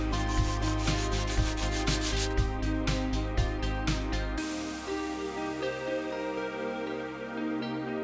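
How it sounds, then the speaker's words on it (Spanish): Spots on an MX-3 project are sanded by hand before body filler goes on, a steady rhythmic rubbing of back-and-forth strokes, close and continuous, with no talk. "Listo, lijados todos los sitios en donde les voy a echar masilla"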